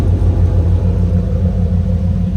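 A 2002 Chevrolet Corvette Z06's engine exhaust rumbles at idle close by, a deep, steady, low throaty drone with no revving and no one speaking.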